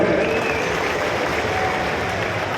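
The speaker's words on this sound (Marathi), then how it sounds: "एकदा जोरदार टाळी झाली पाहिजे" An audience at a public inauguration ceremony for development works in the Phaltan-Koregaon constituency claps together in a sustained, dense burst of applause that fills the hall without pause.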